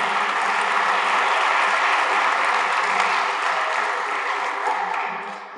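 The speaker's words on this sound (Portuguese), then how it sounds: "É verdade, palmas para eles." Audience applauding volunteers at a didgeridoo concert, a dense, even wash of clapping that holds steady and then fades slightly toward the end.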